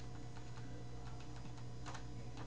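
Keyboard keys pressed on a computer while setting up a drum rack in music software, a few light clicks scattered over a steady low hum, quiet and close.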